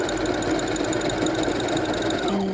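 A sewing machine stitches a ruffle sock, its motor giving a steady, close mechanical whir that holds even throughout, with a brief change in pitch near the end.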